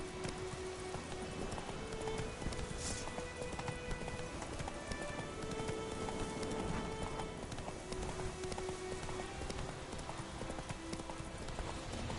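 Horse hooves clip-clop in a fast, steady galloping rhythm in The Witcher 3 video game, continuous and moderately close under a wash of ambient game noise.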